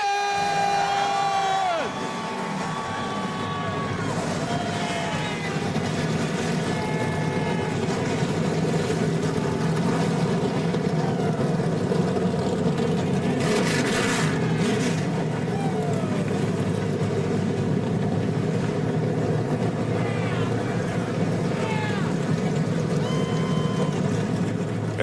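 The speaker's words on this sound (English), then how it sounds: "And the engines have fired" Dirt track race car engines at Eldora Speedway start and rev before the 150-lap Mudsummer Classic, a loud continuous roar with rising and falling throttle blips over a cheering crowd.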